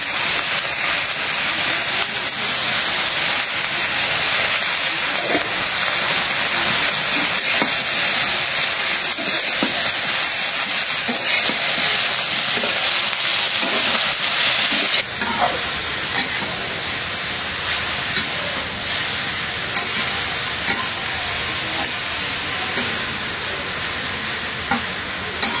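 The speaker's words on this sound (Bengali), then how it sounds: "এভাবে কড়া করে ভাজতে হয়।" Vegetables frying with egg in a pan make a loud, steady hiss and sizzle close by. From midway the texture turns more broken, with scattered crackles and spatula scrapes.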